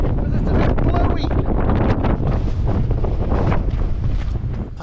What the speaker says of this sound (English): But it's a bit blowy.